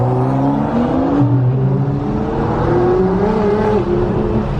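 A Nissan GT-R accelerates hard during a street race against another GT-R. Its engine drone climbs steadily in pitch, loud and close, with no talking over it.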